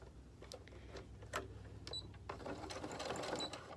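A sewing machine stitches a seam on a fabric mask with a filter pocket, running in short quiet bursts of rapid needle chatter with brief pauses between them.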